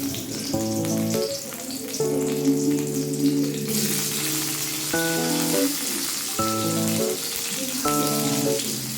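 Tomato pieces dropped into ginger paste frying in a pan while cooking a Bengali pointed gourd curry, a loud continuous sizzle and crackle under recurring tonal hum from a nearby appliance.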